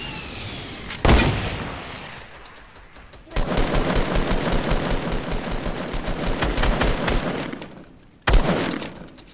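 Gunfire in Fortnite: a sharp single shot, then a long loud burst of rapid automatic fire, followed by another abrupt shot near the end.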